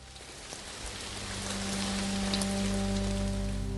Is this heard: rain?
yes